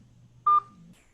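Single telephone keypad DTMF tone pressed while entering a meeting ID on a call, a short sharp beep rising abruptly out of a quiet low hum, followed by faint background murmur.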